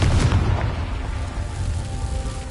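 A Confringo spell explosion in the video game Hogwarts Legacy, a loud fiery blast with a heavy low boom at the start that fades into a rumbling, crackling tail.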